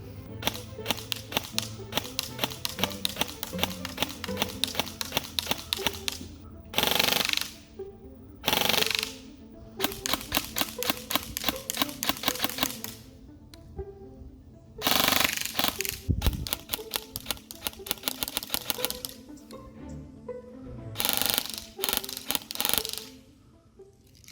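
A G&G SSG-1 USR airsoft AEG on an 11.1 V LiPo fires full-auto bursts at about 24 rounds per second, several loud, rapid buzzing strings separated by short pauses, with no talk.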